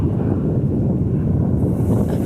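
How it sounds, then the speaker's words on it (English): Wind rushes and buffets against the microphone in a steady, loud roar with low rumbling gusts. "It's getting pretty windy here."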